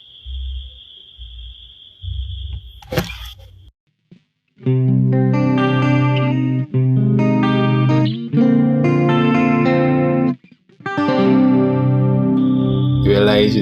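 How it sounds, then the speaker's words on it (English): Electric guitar through a Boss GT-1 chorus preset with the effect level at 50, ringing chords with a shimmering, wavering tone after a few low plucked notes and a brief tone, fairly loud with short gaps between phrases. "I'll just keep it as chorus for simplicity's sake."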